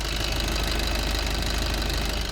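Maruti Swift Dzire with a DDIS diesel engine, eight years old, idling as a steady, close, loud clatter with a low rumble and no voices over it.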